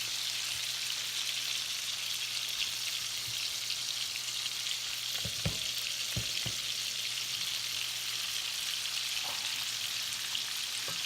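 Garlic and shrimp fry in oil and butter, a continuous bright sizzle and crackle close by, with a few soft clicks as the pan is stirred.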